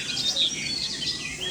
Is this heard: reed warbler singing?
yes